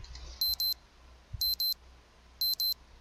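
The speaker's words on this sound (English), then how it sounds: "Next to my ear, my cell phone alarm rings." A cell phone alarm rings in the game Saku Saku: three bursts of rapid double electronic beeps, evenly spaced, over a quiet background with a low hum.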